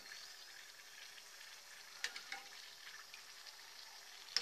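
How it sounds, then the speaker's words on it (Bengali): Puri frying in hot oil in a kadai, a faint steady bubbling sizzle with a few soft clicks and spatters, no talking. "আরেকটু ব্রাউন করে আমরা এটাকে ভেজে নিচ্ছি"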